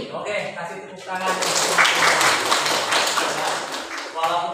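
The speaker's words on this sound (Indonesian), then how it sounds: "Oke, kasih tepuk tangan." Students in a classroom clap their hands together in a brief burst of rapid, fairly loud applause, with speech at the start and end.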